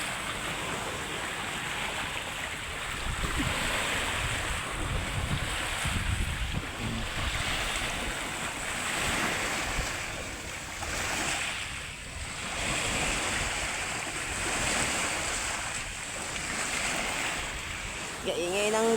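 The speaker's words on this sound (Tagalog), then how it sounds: "Ingay ng dagat guys." Sea surf washing onto a Palawan shore in slow, rolling surges, loud and close, with wind buffeting the microphone throughout.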